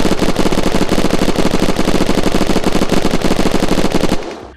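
Dragon Fang gun in the video game Unturned firing a long, loud, rapid automatic burst of evenly spaced shots for about four seconds, then cutting off.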